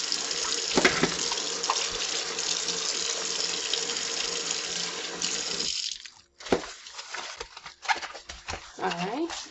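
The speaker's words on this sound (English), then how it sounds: "I'll wipe down and wash your soap pad for your next use" Water runs steadily from a kitchen sink tap while a soap pad is washed. The flow cuts off after about six seconds, leaving scattered clatter and handling noises in the sink.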